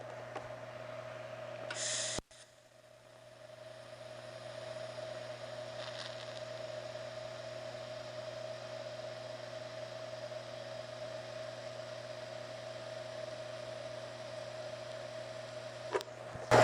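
TIG fusion welding on steel without filler: a faint, steady electrical buzz holds for about fourteen seconds after a brief start, with no talking.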